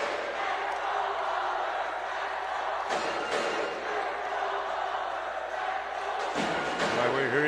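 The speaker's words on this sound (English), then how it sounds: "Hearing the JRU cheering squad." A basketball cheering squad roars in a semifinal arena game, with a dense, continuous crowd din, chanting and shouts swelling and dipping throughout, while a commentator's voice runs over it.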